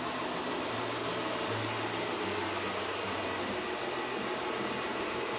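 The radiator cooling fan on a Kia Carnival petrol engine runs in a steady, loud broadband whoosh with a low hum underneath, unbroken and with no talking.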